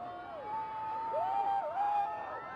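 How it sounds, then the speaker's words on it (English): A crowd gathered for a total solar eclipse whoops and cheers at a distance, with rising and falling shouts and whistled tones over a steady wash of voices. "that was the roar from the crowd that you just heard"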